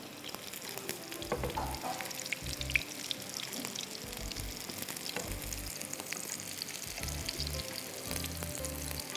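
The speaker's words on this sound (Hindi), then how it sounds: "बस ये सिर्फ मुझे फ्राई करना है अब" Chicken pieces fry in a pan for Bohri chicken pulao, giving a continuous low sizzle at moderate distance, with scattered crackles and faint clinks throughout.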